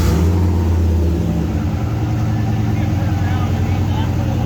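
Engine of a turbocharged GMC Canyon pickup running loud and close with a steady low rumble, heavy from the start, while people talk nearby.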